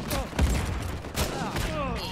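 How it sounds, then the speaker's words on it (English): Gunfire rattles in Uncharted 4 multiplayer, several sharp shots in quick bursts amid game noise over about two seconds. "that guy is shooting at me"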